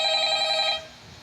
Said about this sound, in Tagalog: Sagutin mo naman ng telepono.